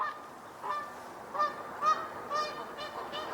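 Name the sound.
duck calling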